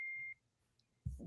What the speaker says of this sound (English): my thing just keeps beeping and I don't know how to turn it off